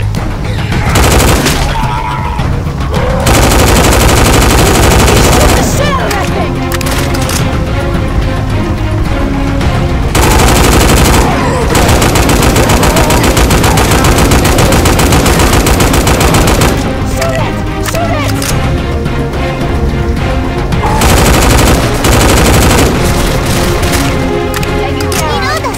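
Dense, rapid gunfire in Left 4 Dead 2: sustained automatic bursts and booming shots that stop and start, loud throughout, with voices talking over the shooting.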